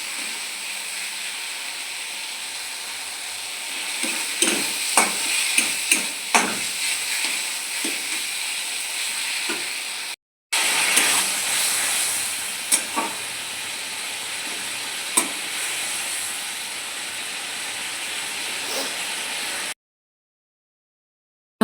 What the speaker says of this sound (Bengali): এবার হালকা জল দিয়ে নেড়ে চেড়ে আর একটু ভালো করে কষিয়ে নেব।